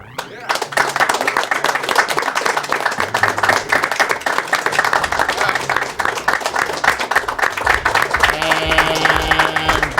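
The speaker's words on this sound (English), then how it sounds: "Please have everyone in the room clap for 12 seconds after reading this comment." A room full of people at the AGDQ 2013 speedrun marathon claps steadily and loudly throughout, dense broadband applause that never lets up, with a bit of talk mixed in beneath it.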